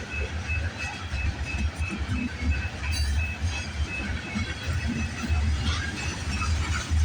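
Freight train rolling past on the tracks, a continuous close rumble with rhythmic wheel clatter and faint squeals over a steady roar.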